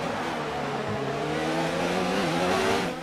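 Formula 1 car engine in the F1 2019 racing game, a steady high-pitched whine with harmonics that rise and fall slightly as the car fights for traction, loud and continuous with no talking.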